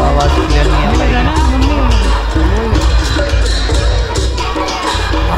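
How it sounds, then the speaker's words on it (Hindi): Two sets of drums pound together at a crowded temple fair, their rhythms blending into a loud, continuous mix under steady crowd hubbub and voices. "अभी यहाँ पर बज रहे हैं दो दमों के सेट"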